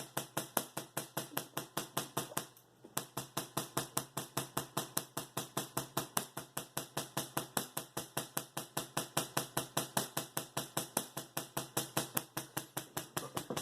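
Rapid, regular crackling strikes from a 16-inch half-bridge solid state Tesla coil run on 125 VAC, a steady buzzing train of sharp snaps with a brief gap near the start, loud and close, no talking.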